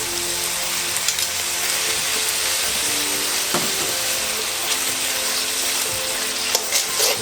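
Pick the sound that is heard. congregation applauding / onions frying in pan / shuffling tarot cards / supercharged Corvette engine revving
onions frying in pan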